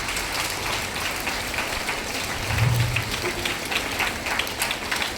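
Schoolgirls clap together at a Kamarajar birthday celebration at a girls' higher secondary school, making a dense, continuous, rain-like wash of applause from a large group that swells briefly in the middle.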